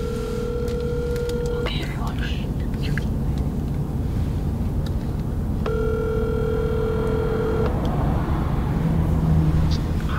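A phone call rings out on speakerphone in two long electronic tone bursts with a pause between, heard over a steady road-like background hum, with soft voices faintly audible.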